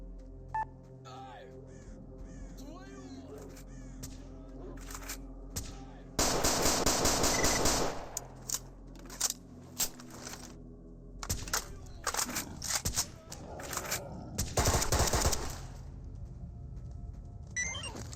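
Gunfire while fighting bandits in the STALKER mod Narodnaya Solyanka: scattered single shots and a couple of loud sustained automatic bursts, mixed with other game sounds and a voice speaking.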